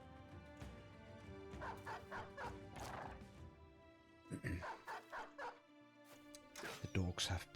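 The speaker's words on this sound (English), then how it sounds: "The dogs have been unleashed." War dogs bark and yip in the medieval tactics game Battle Brothers with the Legends mod, several sharp barks in short bursts amid battle noise, with someone talking over them.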